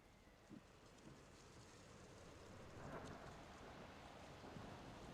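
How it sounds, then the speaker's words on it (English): Faint ambient storm effect in an online tabletop game session: soft continuous rain-like hiss with low distant rumbles swelling briefly, heard quietly with no voices. "little like storm in the distance."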